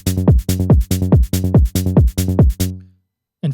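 Korg Electribe 2 groove of punchy bass and kick with closed hi-hat and cabasa, a steady fast pulse of about ten tight hits that stops abruptly, followed by a short pause and one more hit.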